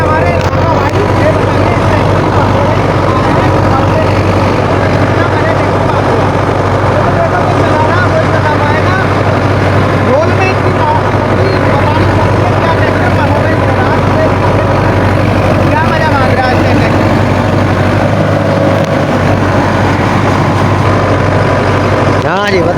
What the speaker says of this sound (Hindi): आप जो ट्रैक्टर चला रहे हैं हमारे भाई